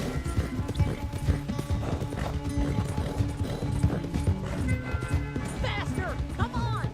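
Horse hooves clip-clop at a steady galloping rhythm in Red Dead Redemption 2, close and fairly loud, with a horse whinnying briefly and people talking over the hoofbeats.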